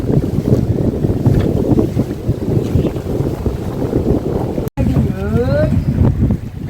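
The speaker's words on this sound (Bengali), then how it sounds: "প্রচন্ড ঢেউ আর তেমনই হাওয়া" Strong wind buffets the microphone with broad, steady rushing noise around a fishing boat on rough Sundarbans water, with big waves churning; someone speaks over it near the end.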